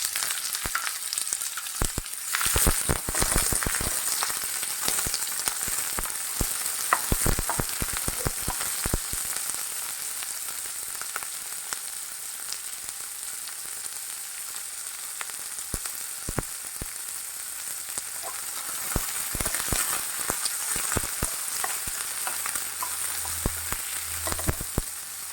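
Chopped onion sizzles steadily in a hot pan of oil after garlic has been sautéed golden brown, cooking for an egg chops snack; a continuous, fairly close frying hiss with occasional sharper crackles and stirring, no talking.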